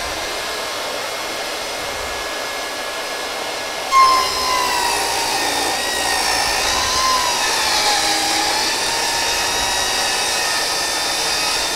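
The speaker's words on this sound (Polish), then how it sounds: "Czyli tutaj w tej sytuacji włączamy sobie pilarkę." A Precisio CS 50 EB circular saw switches on and runs, cutting material: a loud, steady high-pitched motor whine that starts abruptly and holds level for several seconds, with no voices.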